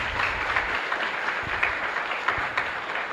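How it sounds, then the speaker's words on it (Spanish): A church congregation at a live Mass in the Divino Niño Jesús chapel applauds, a steady wash of many hands clapping at moderate distance with no voices over it. "Fuerte aplauso para esta comunidad"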